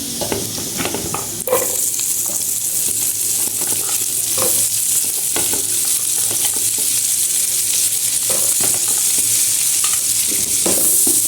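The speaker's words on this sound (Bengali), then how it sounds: "গাজরটা আমি ভালো মতো ভেজে নেব" Carrots fry over high heat with garlic and ginger in a pan for chow mein, giving a loud, close, continuous sizzle with repeated stirring scrapes throughout.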